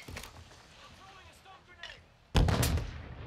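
Gunfire in a video game: a few sharp shots early, then a loud, heavy burst of firing near the end, with a player talking quietly over the game sounds.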